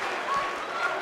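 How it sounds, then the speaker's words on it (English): Bloodthirsty arena crowd in the WWE 2K18 wrestling video game, a steady roar of cheering and applause filling the whole moment without a break. "can you hear this bloodthirsty crowd?"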